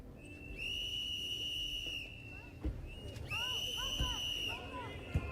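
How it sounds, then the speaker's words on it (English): Shrill whistle blown in Fallout 76, several long sustained blasts separated by short gaps, the tone bending at the ends, over a bed of game ambience with thuds and faint chatter. "Blow the whistle a little bit more."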